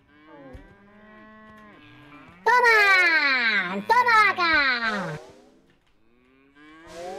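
A cow in the video game Wobbly Life lets out long, loud moos, one drawn-out call followed by a second after a short break, with a child-like voice talking before and after.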